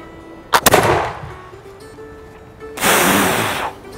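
A black powder smoothbore musket fires outdoors, giving a loud, sharp report with a brief crackling echo, then a second burst of noise a couple of seconds later.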